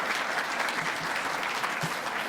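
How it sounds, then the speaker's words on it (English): An audience applauds for parents and guardians at an awards ceremony, a steady, dense wash of clapping that holds evenly throughout without a break. "A round of applause for the parents and guardians again, because it's well deserved"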